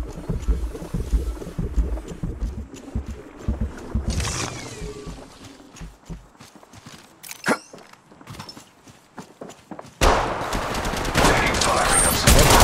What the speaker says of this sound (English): Taking fire, Hudson.